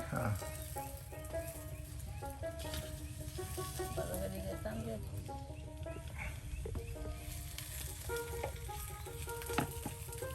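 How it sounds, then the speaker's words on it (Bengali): Paratha made with ripe jackfruit juice fries in hot oil, a continuous soft sizzle and crackle with faint clinks, heard at low level while a person talks quietly alongside. "দেখুন এখন তেলে কিন্তু দিয়ে দেওয়া হচ্ছে"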